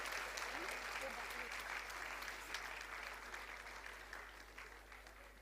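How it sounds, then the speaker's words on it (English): A convocation audience applauds the winners with a dense round of clapping from many hands in a large hall, steady at first and gradually fading, with a faint low hum beneath. "One big, loud clap before we begin with our presentation."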